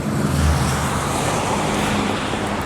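A car drifting on a night street, heard as a loud, close, continuous engine and tyre roar with broad road noise, holding steady throughout without speech.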